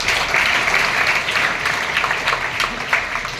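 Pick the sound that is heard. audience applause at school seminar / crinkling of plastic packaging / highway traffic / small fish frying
audience applause at school seminar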